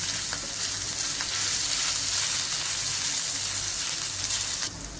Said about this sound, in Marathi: आपलं तेल तापलेलं आहे, त्यामध्ये आपण टाकणार आहे जिरं, ओवा, आलं आणि लसणाची पेस्ट. हे आपण परतून घेणार आहे.